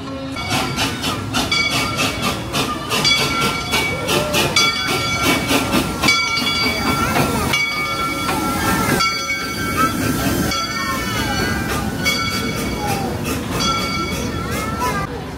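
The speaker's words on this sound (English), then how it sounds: "And here we go, lurching out of the station." An amusement park train at Worlds of Fun, Kansas City, rattles and clanks steadily as it lurches out of the station, with metallic squeals and a faint hiss, while people chatter over it.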